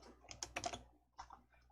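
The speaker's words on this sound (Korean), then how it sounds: "Alt S나 저장 아이콘 클릭해 주세요." Computer keyboard keys pressed to save a document, a brief burst of a few quick, faint, close clicks with no talking.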